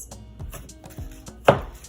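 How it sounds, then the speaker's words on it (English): A knife finely chopping and dicing garlic on a cutting board, with a series of soft repeated taps and a single louder, sharper chop near the end. "And you can see this beautiful finely dicing action here going on."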